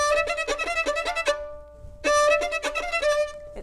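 A violin plays an off-the-string passage of quick, bouncing detached notes in two short bursts separated by a brief pause, heard close and clear with no talking.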